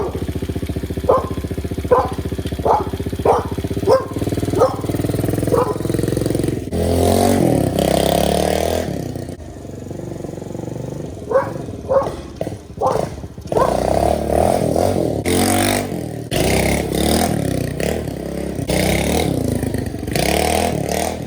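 A 1968 Pontiac Firebird V8 idles loudly close by, with a series of sharp rhythmic revs early on, then sustained rumbling and more revving bursts, while a person talks over it.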